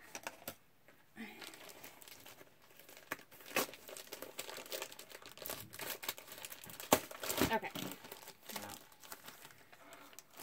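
Scissors cut through plastic craft-store packaging, giving irregular close crinkles, snips and rustles that build in intensity toward the middle, with no talking.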